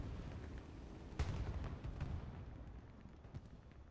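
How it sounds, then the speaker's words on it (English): Gunfire and explosions in the WWII shooter Hell Let Loose form a continuous far-off rumble, with a sharper blast and a few scattered bangs over the background din. "Explosion up here."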